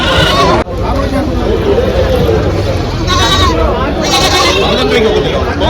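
Goats and young kids bleat repeatedly at a busy goat market, their cries rising over a constant crowd hubbub and nearby bargaining voices.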